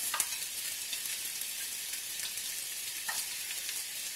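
Onions and mixed vegetables sauté in a pan for a chunky meat sauce, a steady close sizzle with occasional brief crackles and no talking.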